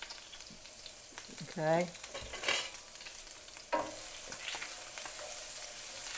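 Minced shallot fries in butter for a beef and butternut squash risotto. A soft, continuous sizzle runs throughout, broken by a few spoon scrapes and clatters against the pan, and one person speaks briefly.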